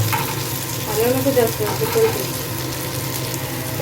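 Bombil (Bombay duck) fish fry on a hot tawa with a steady, close sizzle and crackle that swells slightly as the pieces shift in the oil.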